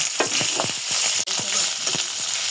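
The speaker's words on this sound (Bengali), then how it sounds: "তেলে সুন্দর করে দেখেন একদম ভালো মতো ভেজে নিচ্ছি" Beef frying in a little mustard oil for a jackfruit-seed mash, a close, crackling sizzle with repeated scrapes and stirs of a spatula across the pan, one brief cut midway.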